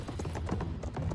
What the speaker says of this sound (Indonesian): ternyata kuda yang ditunggangi Wang Fan memiliki kekuatan yang begitu dahsyat